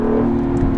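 A 2017 Acura NSX drifts a little sideways through a turn, its engine holding a steady, loud hum with a strong tonal drone. The sound is close and continuous and lasts under a second, with no talk over it.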